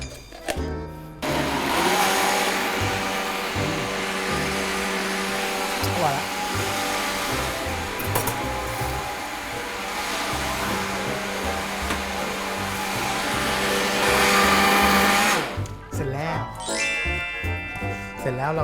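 An electric blender whirs loudly and continuously as it blends mixed berry yoghurt ice cream, with a steady motor drone lasting about fourteen seconds before cutting off, followed by light clinks and handling noises.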